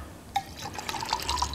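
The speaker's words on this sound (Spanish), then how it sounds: "y ahí yo le aplico agua" Water splashes and trickles as it is poured into pisco to dilute it, a short bright burst of liquid filling a container, close and clear.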